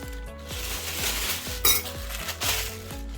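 Defrosted mincemeat for kubideh tacos is mixed in a pan, giving rhythmic scraping knocks about twice a second along with soft squelching and occasional clinks.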